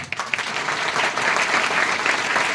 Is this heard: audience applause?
yes